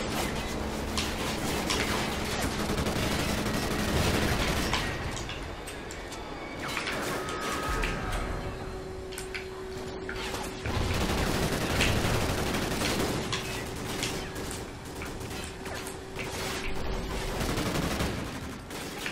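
Rapid automatic gunfire in the Call of Duty: Ghosts campaign mission Severed Ties, loud and nearly continuous bursts with brief lulls, layered over game ambience and a steady electronic tone.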